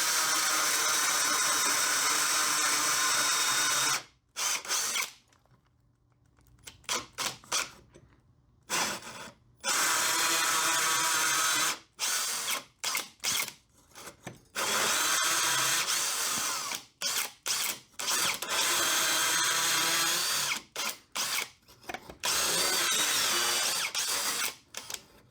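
Power drill spinning cutter bits, several bursts of loud high-speed whirring broken by short silent pauses, with steady drill hum running through each burst.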